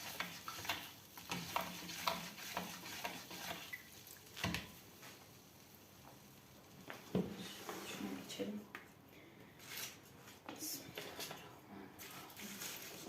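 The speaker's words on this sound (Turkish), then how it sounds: "Arada şöyle bir de tuzu karıştırıyorum erisin." Salt being stirred into cabbage pickle brine, giving soft intermittent sloshing and scraping with small splashes and drips, close up, with a voice talking over parts of it.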